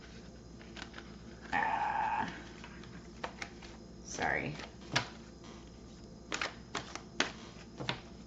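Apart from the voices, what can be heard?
shuffling a tarot card deck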